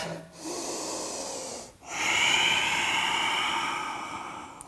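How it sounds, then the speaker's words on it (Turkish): During a yoga session, a person takes deep breaths near the mic: two long, rushing inhale-exhale cycles, each one breathy and loud, with a brief pause between them. "Derin bir nefes alıp ver."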